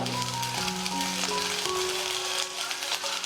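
Black pepper, dried red chillies, fennel, cumin and a sprig of curry leaves lightly roasting in a pan for egg gravy, giving a steady close sizzle throughout with a faint held tone underneath.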